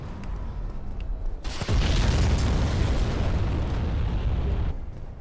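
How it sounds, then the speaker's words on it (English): Giant fire bombs explode in the Dark Souls video game: a sudden loud, roaring blast swells and holds for several seconds before cutting off, with no voices. "there's a guy chucking giant fire bombs up there"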